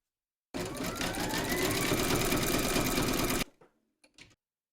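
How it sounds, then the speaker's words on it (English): An embroidery machine runs a zigzag stitch round in a hoop, joining two fabric segments of a collapsible bowl. Its rapid, even needle rattle lasts about three seconds, then stops abruptly, leaving a few faint handling clicks. "Pop your hoop into your machine and stitch round number 4, and that's going to zigzag along here and join the 2 segments together."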